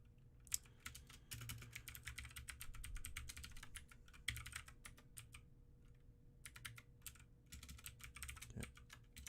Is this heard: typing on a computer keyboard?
yes